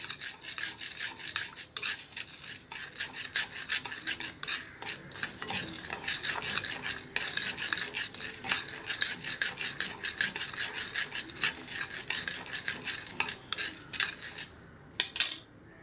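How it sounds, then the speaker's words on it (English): Black pepper dry roasting in a hot pan, a dense dry rattling and scraping of peppercorns stirred steadily throughout, close and continuous, with no talk. "Dry roast the pepper till it becomes hot."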